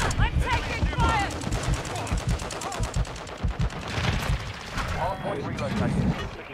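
Video game gunfire crackles in rapid automatic bursts and scattered single shots, close and loud, layered with radio-style voices calling out during the firefight.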